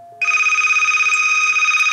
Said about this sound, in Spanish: imagínate que ahora me estoy llamando por WhatsApp, me llamo desde mi otra línea, aquí me entra la llamada